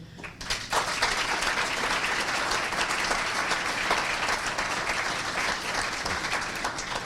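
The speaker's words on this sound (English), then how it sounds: "please, a great applause to our city leaders" A large audience at a city State of the City address breaks into sustained, dense applause for city leaders, steady and loud throughout.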